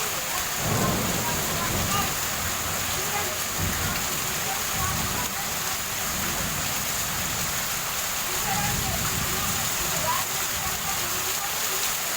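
Heavy rain pours in Rajahmundry during a thunderstorm, a dense continuous roar of rainfall with low rumbles of thunder rolling underneath, close and steady throughout.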